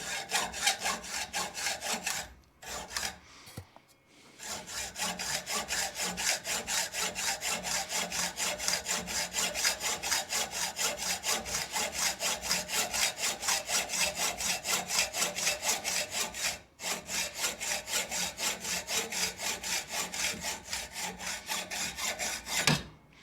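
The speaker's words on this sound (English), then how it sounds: "I think sometimes it's just as easy to go old school and use a hacksaw" Steady back-and-forth hacksaw sawing through metal with a rasping, even rhythm, running almost continuously with a couple of brief pauses; close and fairly loud, no voices.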